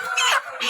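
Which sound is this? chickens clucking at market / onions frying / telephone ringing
chickens clucking at market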